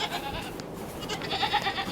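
Goats bleat in freezing, windy winter weather, several overlapping calls from a nearby herd against a noisy, breezy background.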